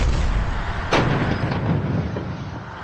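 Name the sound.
25mm cannon shells exploding around Russian BTR vehicle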